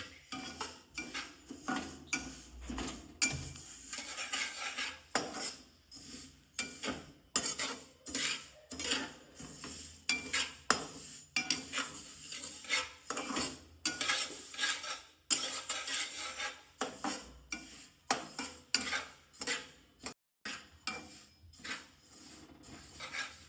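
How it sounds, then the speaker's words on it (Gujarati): Sesame seeds dry-roasting in a pan for tal papdi while a spoon stirs them, producing close, repeated scraping strokes in a steady rhythm with no voices. "આપણે સરસ રીતે અને સારી રીતે તલને શેકવાના છે"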